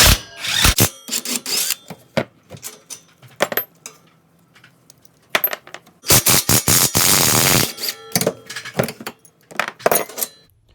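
A ratchet driving a T40 Torx bit clicks in rapid bursts as roll cage bolts come off a 2020 Polaris RZR, with short loose clatters between the runs and one long continuous stretch of ratcheting, close and loud.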